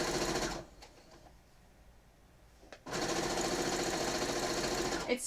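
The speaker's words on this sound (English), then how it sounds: "you're just sewing the raw edges all the way down" A sewing machine stitches down the raw edges of a quilt binding: a fast, even motor whir runs loudly, stops for about two seconds of near quiet, then resumes steadily to the end.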